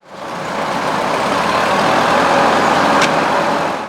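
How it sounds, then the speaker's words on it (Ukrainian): A tractor pulling a plough through a forest near Poltava, renewing firebreak strips, gives a steady close diesel drone that fades in and out, with a brief sharp click near the end. "На тракторі із плугом у лісі поблизу Полтави працівники лісопожежної станції поновлюють мінералізовані смуги."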